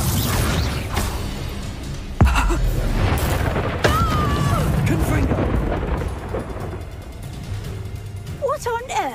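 Confringo fire spell blast in the Hogwarts Legacy video game: a sharp explosive boom lands amid a dense, busy game soundtrack, followed by whooshing magical effects, with character voices heard around it.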